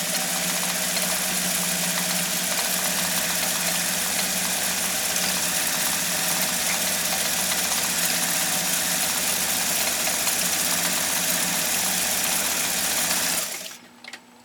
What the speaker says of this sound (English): let's go ahead and sew off that cam generated stitch